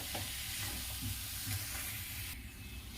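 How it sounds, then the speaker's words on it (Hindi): Vegetable cutlet mixture roasts in a pan over a high flame. A constant sizzling hiss carries the rhythmic scrape of a spoon stirring the mix, close and steady. "इसे अच्छी तरह भूनना होगा। इसे मैं लगभग 5 मिनट भूनूंगी"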